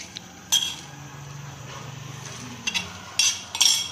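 Dry coconut, fried beforehand, being stirred into a mixture for vada pav chutney, with a soft scraping hum and several sharp metallic clinks of a spoon against the vessel, fairly close and without any talking.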